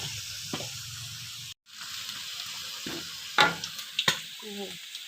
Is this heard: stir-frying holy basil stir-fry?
yes